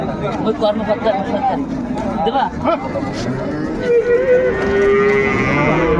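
Cows moo loudly and repeatedly at a busy cattle market where milch cows and calves are being sold, with a crowd chattering close by throughout.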